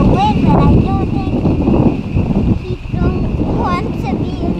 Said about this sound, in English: it's too windy and cold out here